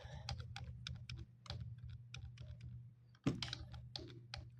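Keys on a computer keyboard clicking in a quick, irregular run of crisp taps during Corel Draw editing, with a low steady hum underneath and a sharper keystroke near the end.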